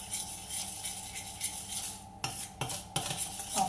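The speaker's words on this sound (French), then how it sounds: "Je mélange les deux" Soft butter and sugar get mixed in a bowl for chocolate chip and walnut cookies, producing light scraping and clinking of a utensil against the bowl, faint and close, with a few sharper knocks near the end.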